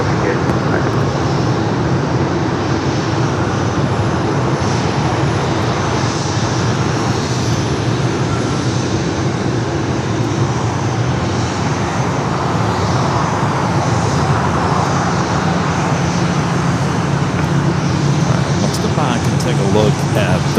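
Airbus A330 jets and other airliners at LAX airport produce a continuous, loud roar of jet engines, with voices speaking over the steady noise.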